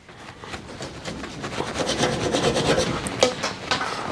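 A Leatherman multitool blade saws through material in steady back-and-forth rasping strokes, close and moderately loud, growing stronger partway through with no talking.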